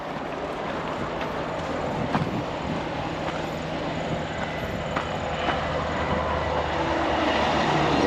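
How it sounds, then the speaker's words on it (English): A train rumbles past on tracks about six meters away near Paekakariki station on New Zealand's Escarpment track, a steady, close, continuous roar with faint clicks of the wheels. "the trains come right beside us here"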